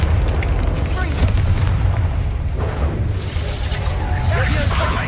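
Fiery Confringo spell blasts in the Hogwarts Legacy video game during combat: a loud, continuous roaring boom with rumbling low end and crackling bursts, heavy and sustained, under game voices shouting.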